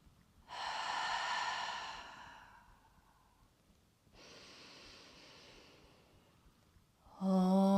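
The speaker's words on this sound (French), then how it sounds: "on va commencer par une inspire par le nez et expire par la bouche" Slow breaths heard up close in a calm yoga session, each drawn in through the nose and let out through the mouth in long airy sighs, with a louder breath at the end.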